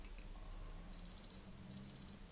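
A Q&Q Superior by Citizen melody alarm chronograph sounds its fifth alarm, two short bursts of rapid, faint high-pitched electronic beeping separated by a brief pause, with no talk.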